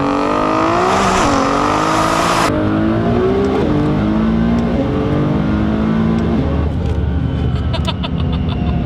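A twin turbo Lamborghini Performante engine roars and revs hard close by, pitch climbing through repeated gear shifts, with a hissing whoosh and rattles as it accelerates.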